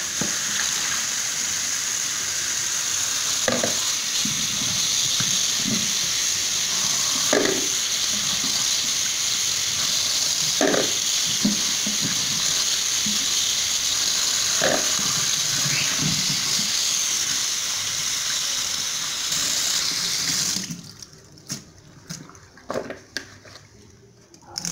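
Tap water runs in a steady hiss over peeled green papaya for about twenty seconds, with light knocks and splashes of handling, then the flow stops and a few soft clatters follow.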